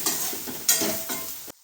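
Tomato thokku frying in oil in a pan, stirred in three scraping sweeps over a steady close sizzle that cuts off abruptly at the end.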